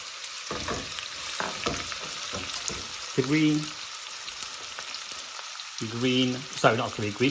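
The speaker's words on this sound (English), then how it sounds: "3 small onions have gone in." Three small onions frying over medium-low heat for a chicken biryani, a soft steady sizzle with occasional scraping stirs in the pan, while a person speaks briefly in a few short bursts.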